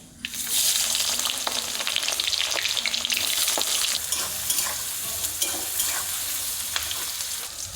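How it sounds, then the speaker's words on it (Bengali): Chopped onion sizzles loudly in hot oil tempered with bay leaf, cumin, cinnamon and clove, a steady dense frying hiss with occasional scraping stirs, close and continuous with no talking. "ফোড়ন দেবো তেজপাতা, জিরে, দারচিনি আর লবঙ্গ"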